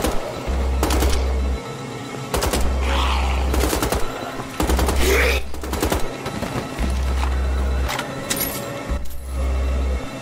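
Heavy machine gun fire in Wolfenstein: The Old Blood, long sustained bursts rattling loud and close with thudding low booms, broken by brief pauses between volleys.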